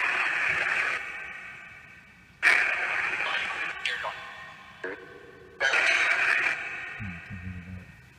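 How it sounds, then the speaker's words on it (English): Bursts of harsh white noise from a spirit radio with reverb switch on and off in choppy sweeps, with brief tonal blips between them, moderately loud and close. "That's the white noise."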